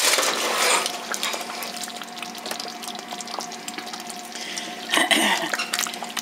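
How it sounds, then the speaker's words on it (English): Spaghetti sauce stirred in a pot just taken off the heat, a steady wet scraping and slosh running continuously with a low hum behind, and a louder swirl near the end. "We shall stir it."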